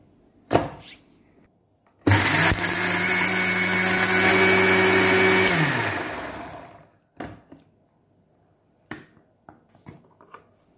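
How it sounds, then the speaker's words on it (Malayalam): A mixer grinder grinds coconut, curd and curry leaves in a loud, steady whir of about four seconds that winds down, bracketed by the sharp clicks and knocks of handling the jar and lid. "എല്ലാം കൂടി മിക്സിയിലൊന്ന് അരച്ചെടുക്കാം"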